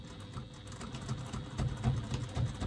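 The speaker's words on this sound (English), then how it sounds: "run a line of stitching along with your sewing machine, which is exactly what I'm going to do" Sewing machine running a line of stitching 1/8 inch from the folded edge of a fabric lining to close it, a quiet rapid mechanical patter with soft rhythmic whirring.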